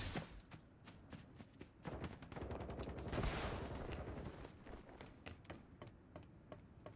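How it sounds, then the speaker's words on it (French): Rapid bursts of gunfire from the Farlight 84 battle royale game, many sharp cracks in quick succession, distant at first and then thickening into a dense volley in the middle before thinning out again. "ça tire par là-bas"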